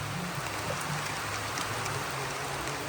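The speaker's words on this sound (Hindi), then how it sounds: "मसाला पिसते पिसते बारिश शुरू हो गई है" Rain begins falling in a rural village in Bihar where spices are being ground, a steady, even hiss of drops on surfaces with no voices.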